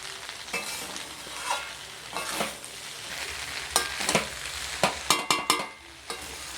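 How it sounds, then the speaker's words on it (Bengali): Egg pasta is stirred and mixed in a pan, with a constant frying sizzle under repeated scraping and clattering strokes that grow louder and quicker toward the end. "এবার মিক্স করে নেব ভালোভাবে"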